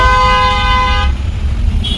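Heavy road traffic on a coastal road trip from Chennai to Thoughukudi: a loud, sustained car horn blares for about a second, then cuts off, leaving a dense rumble of engines and passing vehicles with a brief faint toot near the end.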